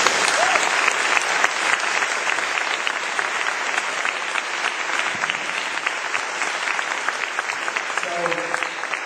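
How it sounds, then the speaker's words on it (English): Sustained audience applause for the candidates at a Trinity-Spadina byelection debate held in a church: a thick, steady roar of many hands clapping that runs at constant strength, with a voice briefly heard near the end. "I think the candidates deserve a very big round of applause"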